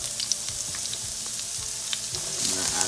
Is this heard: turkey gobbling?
no